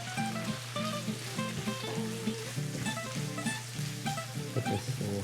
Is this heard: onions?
yes